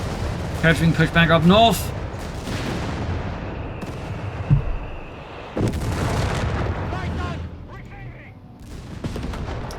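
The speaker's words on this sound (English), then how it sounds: "There's a lot of rocket artillery." Rocket artillery fire in Company of Heroes 3 lands as bursts of booms and rumbling explosions, loud at first and then fading and returning, under a caster's steady commentary.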